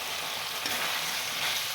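Potatoes frying in spiced oil with Kashmiri chili, a steady close sizzle with light stirring throughout, no voices.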